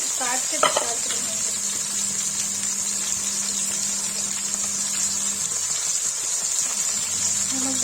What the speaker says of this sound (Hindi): फ्राई गाइस देखिए मशरूम फ्राई हो गया